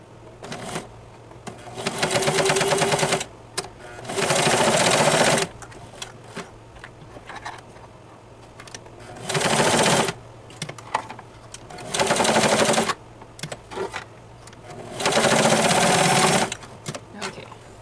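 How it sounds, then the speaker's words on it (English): A sewing machine stitches a cross-body purse strap in repeated bursts of rapid, loud whirring, each run lasting a second or two and separated by quieter pauses, with no voices. "so now we're just going to sew that in place"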